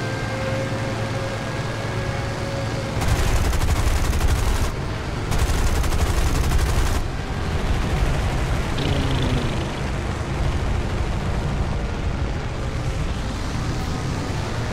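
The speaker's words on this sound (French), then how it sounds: "les effets d'armes, ça fait un peu Star Wars" Weapon fire in the War Thunder combat game: two dense bursts of rapid automatic fire stand out over a constant loud engine and battle rumble, with no talking.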